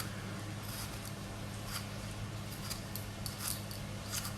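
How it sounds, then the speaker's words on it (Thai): A pear is peeled from top to bottom with a peeler for red-wine poached pears, producing soft repeated scraping strokes, close and faint over a steady background hum, with no talk. "ปอกจากข้างบนลงไปข้างล่างค่ะปอก"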